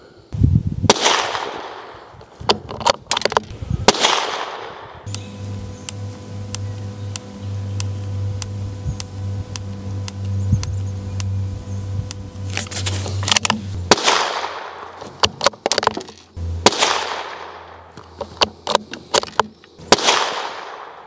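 Rifle shots from a Tikka T1X fired at a range, sharp loud cracks in scattered bursts near the start and end, with a steady mechanical hum and ticking filling the middle stretch.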